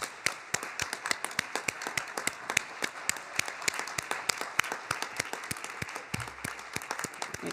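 Scattered individual claps at a city council budget session, a thin, uneven round of applause from a small audience, distinct sharp hand strikes continuing steadily throughout.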